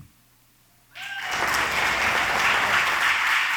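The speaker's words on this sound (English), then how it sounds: "Another big round of applause" After a moment of near silence, a conference audience at the Ocean Race Summit in Itajaí breaks into sustained, loud applause that continues steadily to the end.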